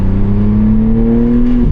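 A BMW G80 M3 engine revving hard, a loud close sustained tone climbing steadily in pitch through the gear, then cut off sharply at the shift.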